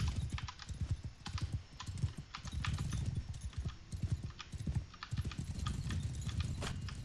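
Galloping horse hooves in the video game Mount and Blade 2 Bannerlord, a fast continuous clip-clop rhythm of repeated thuds, close and steady throughout.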